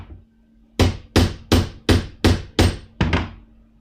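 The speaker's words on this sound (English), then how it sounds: "you're using this to smash the burr over the rivet" A domed metal hammer peens a burr over a brass rivet on leather armor, striking seven times in a steady rhythm, each blow a loud, close, sharp metallic thunk with a short ring-off.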